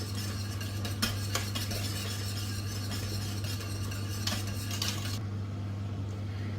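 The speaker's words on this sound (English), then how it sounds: "then stir it, and allow the sauce to thicken" Curry sauce thickening in a pot is stirred with a utensil, giving soft, steady scraping and occasional light clinks against the pot over a constant low kitchen hum, moderately close, with no talking.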